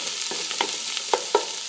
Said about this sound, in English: the sofrito, once it hits the oil, it starts coming up